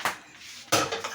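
Dishes clatter into a kitchen sink in two quick bursts of clinking ceramic and metal, close and moderately loud.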